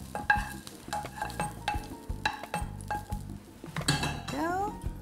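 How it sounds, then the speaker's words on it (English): Butter, flour, onion and garlic stirred in a pan for potatoes au gratin, with frequent metal clinks and scrapes of a utensil against the pan in an irregular rhythm over a faint sizzle. "I'm gonna stir this a little bit until it gets thick"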